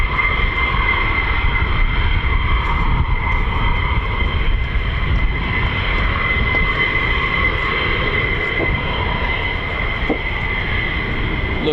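F-15 fighter jet flying at a US Air Force base, a loud continuous roar with a steady high whine, unbroken throughout.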